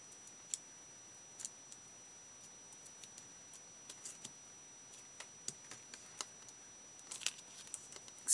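Scissors cutting a paper Christmas gift tag at a crafting table, heard as a run of small, sharp, close snips and paper crinkles spread over several seconds, quiet and irregular with no talking.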